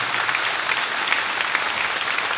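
A concert audience applauds an orchestra at a Mother's Day serenade, sustained dense clapping from a large crowd with a few sharper claps standing out, alone without speech.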